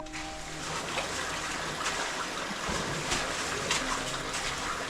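Creek water trickles and babbles steadily through a canyon on the Newnes Plateau in the Blue Mountains, a broad even hiss that holds at the same level throughout with no voices.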